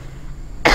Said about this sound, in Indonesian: Enggak kok, cuma batuk biasa.